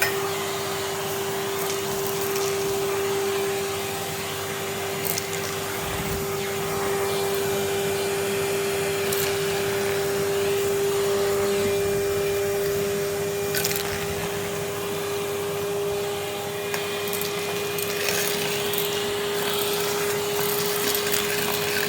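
A Henry vacuum cleaner runs steadily close to a fireplace, a loud continuous motor whine with a strong fixed hum, broken by brief scraping and sucking bumps as the nozzle moves, with no talk.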